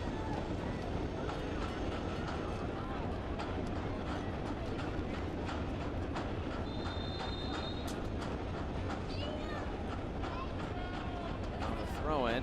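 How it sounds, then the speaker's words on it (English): Train rolls past in the background beside a soccer match, a continuous low rumble of rail cars with faint wheel squeals and clacking, steady throughout beneath a commentator's talk. "Train going by in the background."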